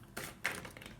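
A deck of playing cards being shuffled, with two quick riffling bursts over one second, close and fairly quiet, no talking.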